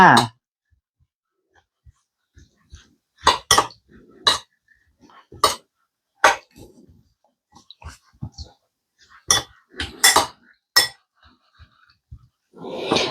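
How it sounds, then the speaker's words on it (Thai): Mango salad dressing ingredients being stirred in a bowl, with intermittent clinks and scrapes of a spoon against the bowl, separated by quiet gaps and a few soft noises. "เราทำการคนส่วนผสมให้เข้ากันค่ะ"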